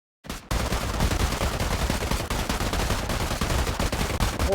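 Rapid gunfire during a firing training drill, a dense continuous volley of loud overlapping shots from several weapons that starts abruptly and keeps going without a pause.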